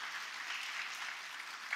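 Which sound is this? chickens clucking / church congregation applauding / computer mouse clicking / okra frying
church congregation applauding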